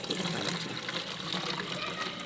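Water pours into a homemade plastic-bottle sprayer for spraying a brinjal plant, a quiet, continuous trickling and splashing fill heard close but faint, with no speech over it.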